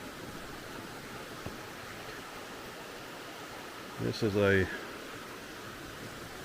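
Bad Creek rushing beneath an old log bridge in the Ellicott Rock Wilderness, a steady broad hiss of flowing water throughout with a brief spoken phrase partway through.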